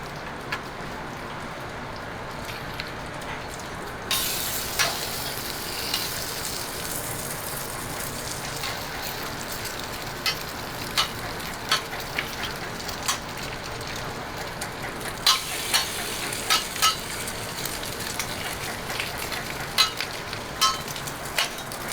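Gravy being stirred and brought to a boil gives a soft, continuous crackling simmer with scattered pops and clicks. The bubbling gets a little busier toward the end, with no voices.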